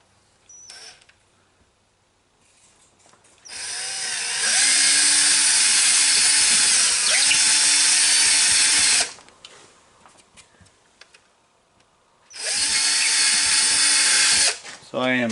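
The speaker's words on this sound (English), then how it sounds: "So I can drill a hole to see if I'm just off the stud or not." A power drill bores a hole through a sheetrock wall to find a stud, whining loud and steady in two long bursts with brief pauses between, close to the listener.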